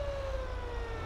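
A fire engine siren in GTA 5 wails as a steady, slightly falling tone, heard at moderate volume without talk over it.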